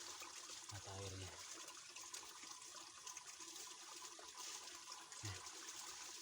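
Spring water flows steadily at the source of a stream beside an old tree, a continuous close rush and trickle that carries on throughout, with a couple of low thumps.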